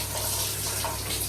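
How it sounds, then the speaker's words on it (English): Shower water running in a home bathroom, a steady hissing spray that stays constant and close for the whole short stretch, with no voices. "we're about to jump into the shower"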